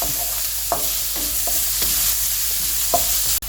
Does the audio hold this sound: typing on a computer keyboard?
no